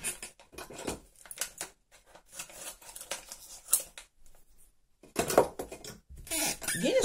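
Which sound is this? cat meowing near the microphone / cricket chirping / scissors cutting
scissors cutting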